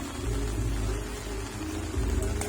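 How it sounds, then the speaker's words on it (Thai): Heavy rain pours steadily onto an outdoor sports court in Sikhoraphum during a doubles match, a dense, continuous hiss with low rumbling underneath and no clear voices. "ฝนเริ่มแรงเริ่มแรงครับ ลงเม็ด"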